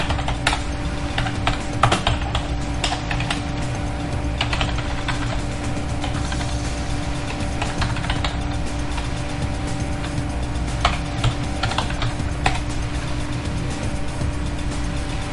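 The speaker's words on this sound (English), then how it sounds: "now in the command prompt, we're going to type the following" A computer keyboard being typed on to enter a command in a command prompt, steady close clicking keystrokes in quick irregular runs with a low background hum.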